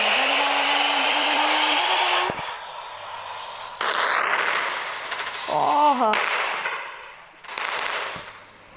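Gas tank explosions in a driving video game erupt as several loud roaring blasts, each cutting off sharply. A voice exclaims briefly between them.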